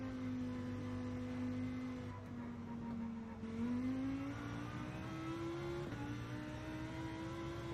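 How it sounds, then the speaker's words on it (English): Race car engine in Gran Turismo 7 holding a steady drone, then climbing in pitch through several gear changes, each marked by a brief drop and a renewed rise; loud, continuous and up close with no talk. "Look at that engine sound."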